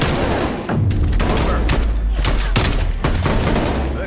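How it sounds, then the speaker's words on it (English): Heavy automatic gunfire and explosions from a Call of Duty Cold War 2 vs 2 match fill the whole stretch in dense, overlapping loud bursts. "They're all shooting at me, man."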